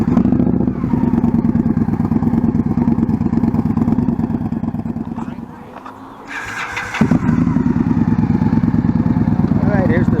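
A motorcycle putters along at walking pace during a slow race on a riding-skills course, its engine chugging near and steady, briefly dropping low before picking back up, with a voice speaking over it.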